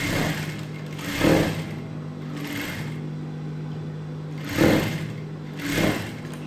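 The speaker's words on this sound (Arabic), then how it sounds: "فمن بعد ما خيطت هاد الكتف هذا غادي ندوز للكتف الآخر" Sewing machine stitching the shoulder seam of a bolero cardigan, running in several bursts of steady mechanical whirring with brief pauses between, close and fairly loud with no talk.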